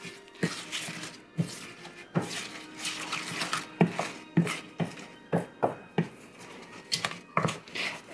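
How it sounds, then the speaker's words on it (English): Chow mein noodles get stirred into melted butterscotch in a pot, a utensil scraping and knocking against the pan in a steady series of sharp clinks and thuds, close and clear. "Now we're going to go ahead and add our chow mein noodles in. Give that a mix."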